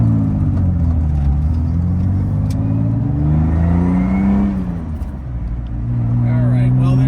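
A 1965 Aston Martin DB5 on a road drive, its engine pulling with a rising harmonic drone, easing off briefly then picking up again, close and loud, while someone talks over it.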